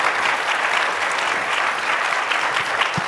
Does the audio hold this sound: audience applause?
yes